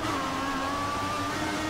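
Simulated F1 race car in F1 2014 at Silverstone accelerating off the start, a steady high engine whine that pitches slightly as it pulls through the gear, loud and continuous with no talk.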